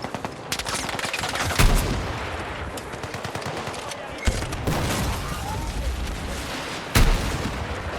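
Sustained automatic gunfire aimed at a building in the Battlefield 6 campaign, a dense continuous rattle of shots with a few louder bursts standing out, spread evenly across the whole stretch.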